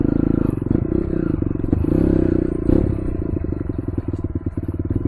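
A Kawasaki KLX 140 off-road motorcycle rides close by on a rough dirt track, its small engine chugging loudly and steadily with rapid pulsing, brief throttle swells and clattering over bumps.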